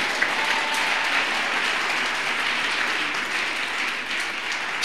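A church congregation applauds in a dense, steady wash of clapping that holds evenly throughout at moderate distance, with no speech on top.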